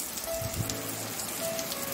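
Rain falls on a mud-walled village house during the monsoon, a steady dense patter and hiss of drops on surfaces, close and even throughout, with no voices.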